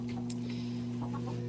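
Chickens cluck softly in their coop, with a few brief faint clucks scattered over a steady low mechanical hum.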